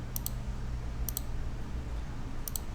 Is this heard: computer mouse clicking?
yes